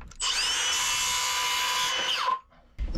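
Power drill whining steadily inside a wooden boat's interior during restoration, one loud continuous run of about two seconds that winds down, followed by a brief pause and a short knock.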